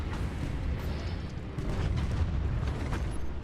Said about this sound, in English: it was his heavy cannon that killed me, not my own mine